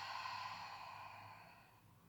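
A single long, soft exhalation empties the lungs while lying on the back during a hypopressive abdominal exercise, breathy and close, fading gradually.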